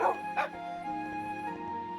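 A dire wolf puppy in the video game Tensura Reincarnated gives two quick, high yips in the first half second, close, over a steady humming game soundtrack.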